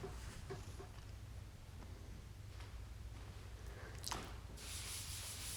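A sanding block worked in circular motion over skim-coated drywall gives a continuous soft abrasive rubbing, close up, growing a little harsher in the final strokes.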